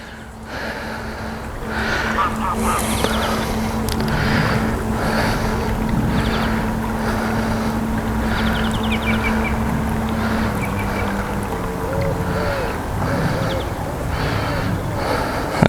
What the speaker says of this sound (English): Okay, boat's here.